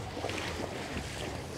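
Wind blowing steadily at a lakeshore, a soft, continuous rushing with gusty swells and some buffeting against the microphone, heard alone.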